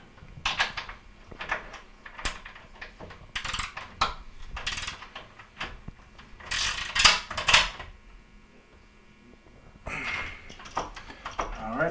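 Parts get tightened during an LG dryer repair, with a run of short ratcheting clicks and metallic rattles in bursts and a voice talking between them.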